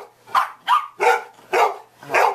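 A dog barks five times in an even rhythm, sharp and close, with brief silences between each bark.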